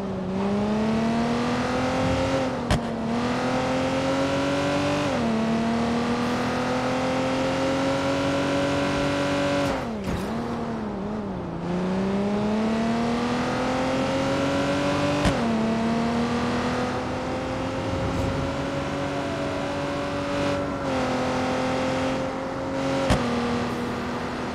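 A car in the video game Watch Dogs 2 drives steadily for a long stretch, its engine tone climbing through gears with repeated upshifts and brief dips, loud and continuous.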